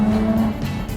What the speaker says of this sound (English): That is how a car is supposed to sound.